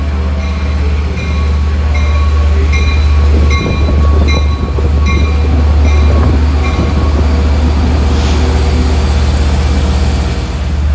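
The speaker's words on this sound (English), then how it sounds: "It's train 668, the last of the Port Jefferson rush hour fleet." Port Jefferson rush-hour commuter train idling at a station during a windy March evening, a loud steady low engine drone with faint high whistles and light clanks, no voices.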